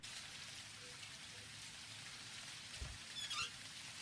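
Soft, steady rain from the video game Jalopy hisses quietly throughout, with a brief muffled thud and a faint higher patter near the end.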